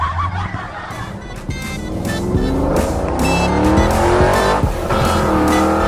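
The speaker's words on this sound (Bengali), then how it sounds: "বাবা রে বাবা, এটা কি গাড়ি?" An Audi car drives hard with its engine revving upward and tires squealing, a loud, continuous roar with rising pitch that swells and holds strong throughout, no speech.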